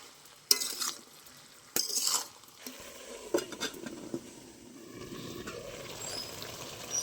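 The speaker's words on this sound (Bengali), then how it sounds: "এবার একটু নেড়ে চেড়ে ভালো করে ঢেকে দেবো" Ridge gourd and potatoes with turmeric stirred in a pan, then covered: a few loud scraping and clanking strokes of a spoon against metal, followed by softer rattles and a faint simmering hiss.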